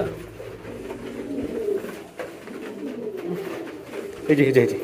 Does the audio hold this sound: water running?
no